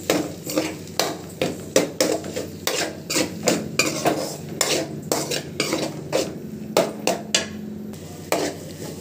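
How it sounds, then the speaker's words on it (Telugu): A utensil scrapes and clinks against a pan in repeated uneven strokes while egg is stirred into Maggi noodles, the metallic taps and scrapes close and fairly loud with a faint frying sizzle beneath. "ఇప్పుడు ఎగ్ వేసుకోవాలి. కొంచెం ఇలా కలుపుకోవాలి."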